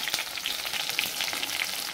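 Bengali-style banana blossom (mocha) koftas frying in oil in a pan, with a continuous bright crackling sizzle and small popping spatters at an even level, close by.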